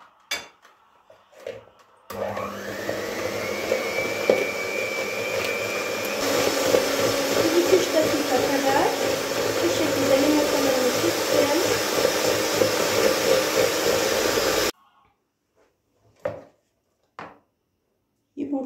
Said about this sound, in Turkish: Yumurtayla şekerimi çırptım.